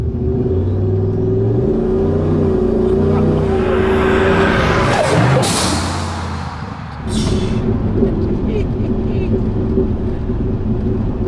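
A turbocharged wagon's engine drones and revs under a passing voice, then a sharp turbo blow-off valve hisses loudly, followed by the engine settling back into a rumble.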